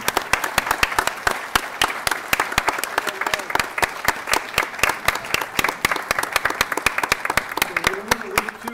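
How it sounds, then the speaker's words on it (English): A room at a Board of County Commissioners meeting fills with steady, loud applause from a crowd, dense clapping throughout, with faint voices beneath near the end. "So let's give them a round of applause and get them down here to take that picture."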